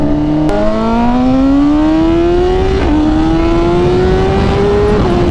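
A BMW M1000RR with a loud aftermarket exhaust roars up close, its engine pitch climbing steadily. It drops briefly at each gear change, about three shifts, then rises again.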